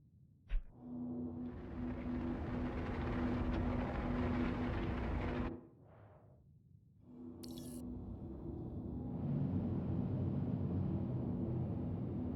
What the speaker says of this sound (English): This is like the afterburner, it seems.